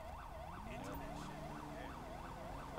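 Ambulance siren from the video game GTA V, a steady wailing tone rising and falling in a quick regular cycle, heard alone at moderate distance over a faint background rumble.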